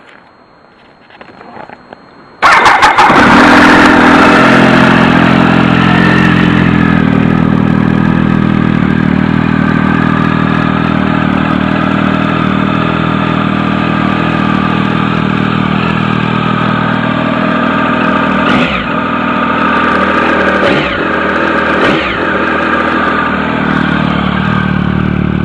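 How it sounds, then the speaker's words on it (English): A Triumph Tiger 1050 SE motorcycle fitted with a road-legal aftermarket exhaust cranks and fires up cold, then settles into a loud, steady close-up idle with a couple of brief blips near the end. "I'll start it up so you can hear what it sounds like. I can't rev it too much because the engine's cold."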